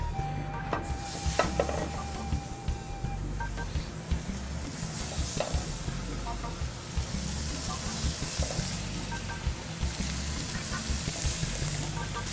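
Meat frying in its own fat in a hot, dry restaurant pan, with a steady sizzle and hiss and occasional stirring clatter, alongside faint background kitchen noise.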